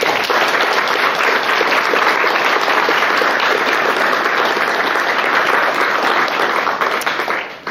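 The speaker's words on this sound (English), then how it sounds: "Let's give our California OMI Class 25 a big round of applause." Loud, sustained crowd applause at a graduation ceremony for a guide dog class, steady clapping from many people lasting several seconds before trailing off at the end.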